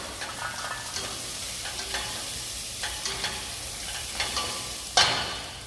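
Sautéed bell peppers are stirred into already-sautéed eggplant in a pan: a steady, moderate frying hiss with repeated soft scrapes and clicks from the utensil, and one sharper clack near the end, with no talking.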